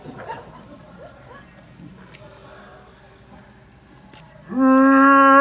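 Quiet murmuring and faint rustles, then a loud, sustained low guttural bellow through a birch bark megaphone, imitating a bull moose mating call, lasting to the end.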